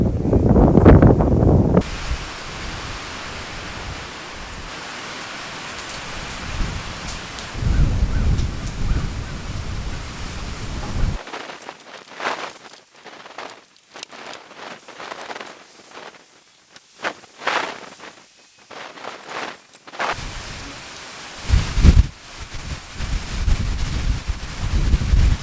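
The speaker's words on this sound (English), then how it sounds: "that rain's coming back again" Strong gusts of wind buffet a tent during a storm, with rustling and flapping surges that rise and fall, a quieter lull in the middle, then renewed bursts; rain is not clearly distinguishable.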